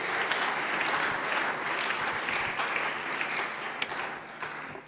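A church congregation at a worship service applauds together in a steady, dense wash of clapping from many hands that holds for about five seconds before thinning slightly at the end.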